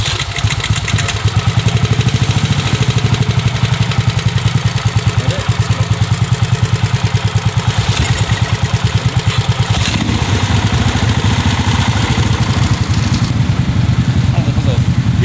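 A motorized racing sofa's engine idles and runs steadily with a rhythmic, pulsing clatter throughout, loud and close, with a slight change in tone partway through.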